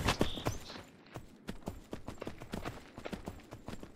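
Hooves of a horse in Myth of Empires clip-clop in an uneven walking rhythm, close and distinct, with a short pause early on before the steps resume.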